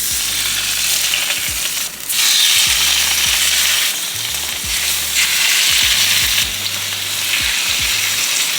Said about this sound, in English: Now we're just gonna lay our salmon in.